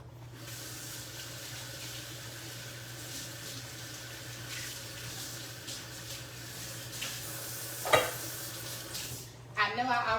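Sausage fries in oil in a pan, giving a steady soft sizzle beneath a constant low hum, with a few clanks and stirring knocks toward the end.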